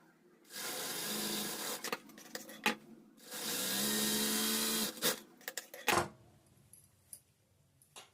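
Sewing machine stitching work-blouse fabric, running in two sustained bursts of motor whir with short pauses, then scattered handling clicks and taps as the cloth is pulled out.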